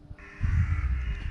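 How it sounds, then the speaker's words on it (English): Crows at Danes Dyke on a quiet evening, a single harsh caw ringing out clearly and fairly close, with low rustling and ambient noise beneath it. "see the crows."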